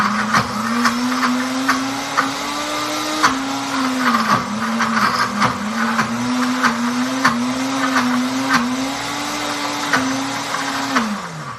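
A Deluxe Cooking Blender pulsing snack ingredients, a loud, steady motor whir that dips and restarts in short bursts with rattling of contents, alone with no talk.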